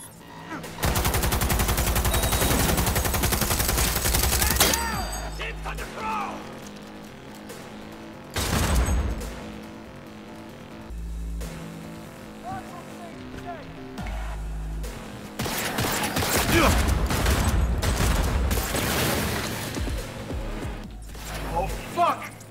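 Sustained automatic gunfire in Cyberpunk 2077 comes in loud, dense bursts, separated by quieter gaps, while someone talks and swears over the shooting.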